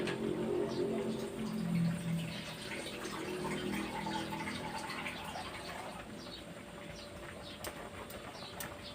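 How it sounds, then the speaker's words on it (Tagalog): A little water is poured into a pot of tinola soup in a home kitchen, giving a faint, soft splashing trickle that fades over a few seconds, with quiet background sounds around it. "nag-add ako ng konting tubig"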